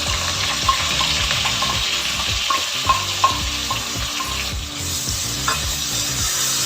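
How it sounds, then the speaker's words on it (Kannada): Coarsely ground onion with turmeric sizzling in a pan for a country chicken curry, a steady close frying hiss with scraping stirring strokes and small clicks of a utensil against the pan. "ಈಗ ಚೆನ್ನಾಗಿ ಫ್ರೈ ಆಗಿದೆ ಈರುಳ್ಳಿ."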